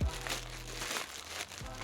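A plastic bag holding Nike woven shorts is torn open, giving brief, close crinkling and rustling of plastic.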